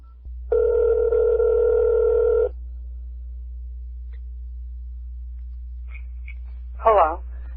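A cell phone plays a steady dial tone for about two seconds, then silence with a low hum and a few faint blips as a phone card number is entered, ending in a short warbling electronic tone.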